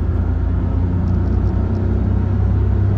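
A 2021 Mitsubishi Mirage with a 5-speed manual accelerates in third gear, heard from inside the car as a loud steady engine drone and low rumble with no talk.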